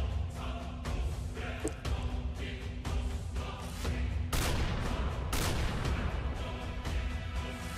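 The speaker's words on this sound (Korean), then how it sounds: "목표물이 총소리를 듣고 도주했습니다" Gunfire inside a Minecraft spy role-play, with dense rapid bursts of shots and booming blasts rolling continuously, loud and close, heavier surges midway, with no talk over it.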